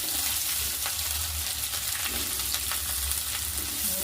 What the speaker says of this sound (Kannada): ಸ್ವಲ್ಪ ಆಗಬೇಕಿದು ಶುಂಠಿ ಬೆಳ್ಳುಳ್ಳಿ. ಈರುಳ್ಳಿ ಹಾಕೋತೀನಿ.